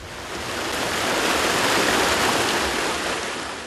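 Flowing water from the streams and irrigation channels of Meinong in southern Taiwan's farmland, a broad steady rushing wash that swells slightly and then eases, close and continuous with no voices.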